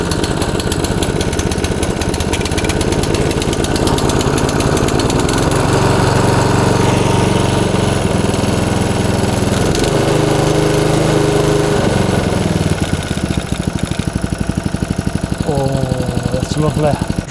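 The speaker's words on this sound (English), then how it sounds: "I must say I'm really impressed with this Briggs & Stratton engine. It's really quiet and amazingly easy to start." An Allett Kensington 20B mower with a Briggs & Stratton engine cranks and catches, then settles into a steady, close, loud idle that runs continuously throughout.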